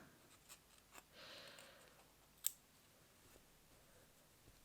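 Scissors snip a loose yarn end from a crocheted reindeer piece, giving a few quiet, brief cuts and clicks with one sharper snap midway, no speech.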